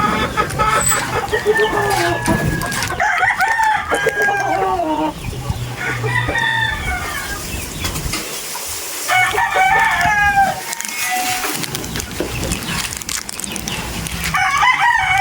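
Gamefowl in a breeding pen, with several roosters crowing in overlapping bursts alongside clucking hens, close and loud over a continuous background hum.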